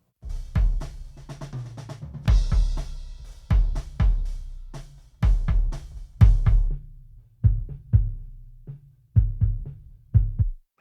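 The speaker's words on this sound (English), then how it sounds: "I've got my regular kick as well as a sub kick" A kick drum and then a sub kick track thump alone in a slow pattern, deep boomy hits with long low tails and sparse cymbal ticks, no voices.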